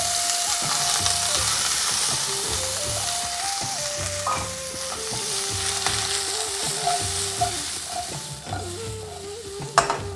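Cloves and cinnamon sizzle in hot oil in a pan while being stirred. The frying crackle is steady and close, broken by spoon scrapes and light clinks, and no one speaks.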